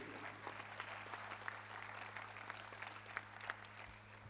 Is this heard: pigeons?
no